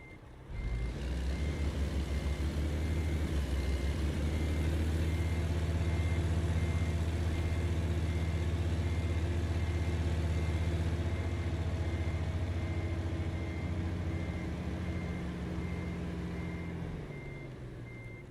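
A heavy truck engine in American Truck Simulator starts up and settles into a steady, loud diesel drone, with a repeating reversing beep running over it for most of the stretch before the sound eases off near the end.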